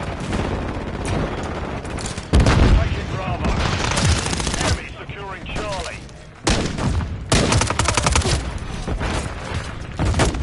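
Rapid automatic gunfire and explosions from the video game Modern Warfare 3, loud and dense in bursts, with a short lull partway through and game voices mixed in.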